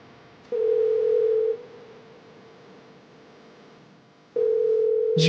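A telephone line rings out unanswered: a steady electronic tone sounds for about a second, falls silent for several seconds, then returns, with a brief higher chirp at the end and no voices.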